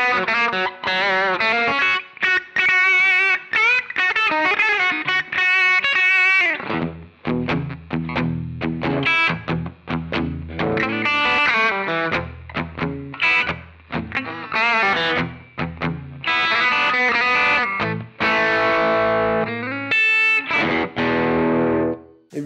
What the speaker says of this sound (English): Really brings in the sort of the twang of the single coil there.